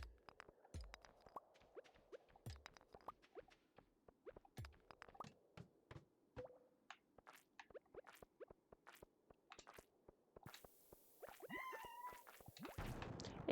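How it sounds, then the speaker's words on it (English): A house cat meows once, faintly, in a quiet room, the short call rising near the end amid scattered soft clicks and taps. "If you hear a cat meowing, that's my other cat."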